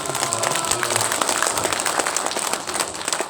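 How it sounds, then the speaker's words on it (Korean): Dense audience applause at a book-launch talk concert in Mokpo, a continuous wash of many hands clapping at steady loudness. "박수 한번"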